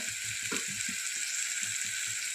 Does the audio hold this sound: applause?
no